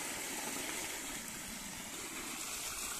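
A 2 HP monoblock water pump with a 3-inch by 3-inch outlet runs steadily, a faint, even motor drone blended with rushing water and no voices.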